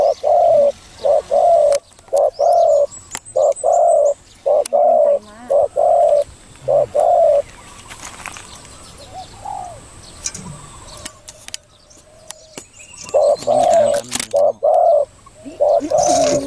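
A spotted dove coos close by in repeated rhythmic phrases of soft hollow notes, pauses for a stretch, then starts again.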